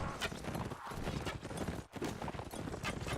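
Cavalry hooves from an Age of Empires match, a galloping saddle horse charging in among skirmishing cavalry, quick overlapping clip-clops with scattered in-game combat noise, fairly faint overall.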